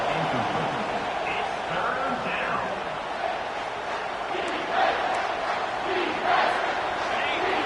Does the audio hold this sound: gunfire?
no